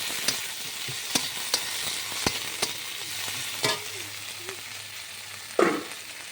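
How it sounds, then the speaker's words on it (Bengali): Tomato and ginger paste cooking down in a pan for masoor dal chorchori, a constant sizzle broken by sharp spoon taps and scrapes against the pan, ending in one louder stir, all close and free of talk. "টমেটো একটু ভালো করে কষিয়ে নেব"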